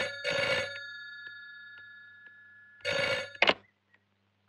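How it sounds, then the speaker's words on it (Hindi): An old-style telephone bell rings twice in a 2004 Hindi film, each burst a loud metallic trill separated by a short pause, with a brief click after the second ring. "अगर जय का फोन होगा तो मुझे देना, समझ गई?"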